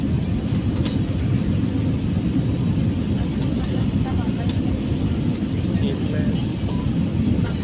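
A passenger airplane landing in India, heard from inside as a loud, steady engine and wind roar that rumbles on without a clear break, with people talking over it.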